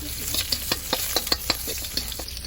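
Garlic and onion sizzle steadily in a hot pan while a spoon scrapes and stirs in regular light strokes, close and continuous, with no voices.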